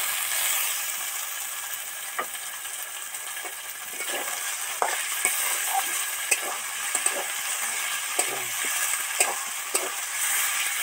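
Tomato frying in oil with ginger and garlic paste for a jackfruit curry gives a continuous close hissing sizzle, dotted with scattered clicks and taps of a spatula against the pan, and no one speaks.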